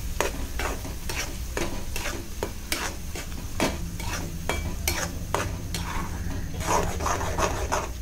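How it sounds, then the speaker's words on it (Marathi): Ground masala paste for a Malvani tarali fish chutney is stirred and sautéed in coconut oil, a spoon scraping the pan in repeated rhythmic strokes over a soft, steady sizzle, close and alone. "छान वाटण परतून घेऊया"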